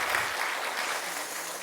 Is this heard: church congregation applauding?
yes